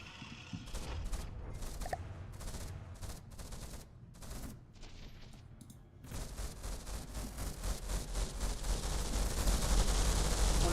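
Twin 20mm anti-aircraft guns fire in a video game, a dense stream of rapid automatic shots with short pauses, then a long sustained burst growing louder toward the end, heard alone.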